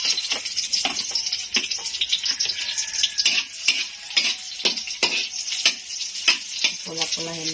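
Garlic sizzles in a pan for chicken adobo, a crackling fry with rapid popping and repeated scraping strokes of stirring, close and continuous throughout.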